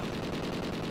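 Rapid gunfire from a video game gunfight crackles in a dense, continuous burst, loud and close, with shots running together like automatic fire.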